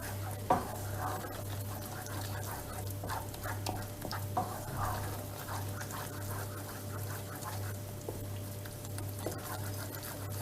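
A wooden spoon stirs flour roasting in a pan for Turkish süt helvası, giving soft repeated scraping and light knocks against the pan over a steady low hum.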